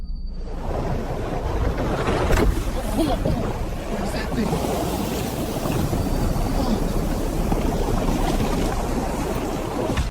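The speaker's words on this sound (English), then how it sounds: "At sunset by the open sea, a man watches rolling waves" Ocean waves rolling onto a sandy shore at sunset on the open sea, heard as a steady, loud, broadband wash with continuous surf and some wind noise on the microphone throughout.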